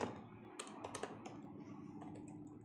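Fingers type on a computer keyboard in a fast, irregular run of light clicks and key taps, close but quiet, with no voices.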